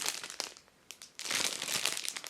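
Clear plastic bag packaging around a Selfridges classic mini panettone being handled, giving close, loud bursts of crinkling with a short quiet gap before a longer, denser run of rustling.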